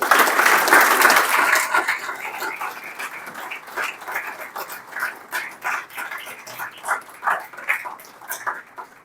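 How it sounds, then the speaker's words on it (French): Applause from an audience at a book launch event in Mauritius, dense at first and then thinning into scattered, uneven claps with an animal yelping faintly in the background. "que je vous demande d'applaudir, mais chaleureusement"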